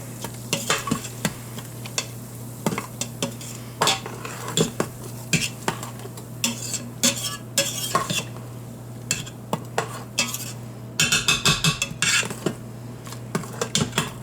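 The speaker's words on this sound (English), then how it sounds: "And then we'll stir this up." Chili with beer being stirred in an Instant Pot, with repeated scraping and clinking strokes of a spoon against the pot over a low steady hum, a busier burst of stirring near the end.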